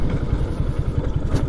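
Modified Lifan KPR 165 motorcycle engine running close by, a brief burst of rough, rhythmic low-pitched thumping exhaust pulses.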